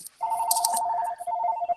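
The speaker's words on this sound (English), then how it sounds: "That my phone ringing." A phone rings close by with a steady electronic warble that repeats without pause for nearly two seconds, alone and loud.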